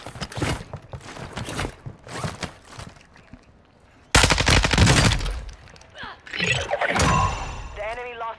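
Automatic gunfire bursts from Warzone 2 gameplay on Ashika Island, including a Lachmann Sub, crack out loudly in rapid rattling volleys in the second half, following stretches of excited voice chat from players.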